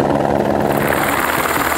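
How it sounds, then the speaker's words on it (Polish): Rescue helicopter on Denali, its rotor chop and turbine whine loud and close in a brief, steady, pulsing burst. "I musiał zostać wezwany śmigłowiec,"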